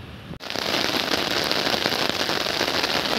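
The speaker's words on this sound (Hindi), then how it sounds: "अब बहुत तेज़ी से पानी गिर रहा है" Heavy rain pours steadily after a brief pause at the start, a dense, loud hiss of drops close by during rice planting, with no voices.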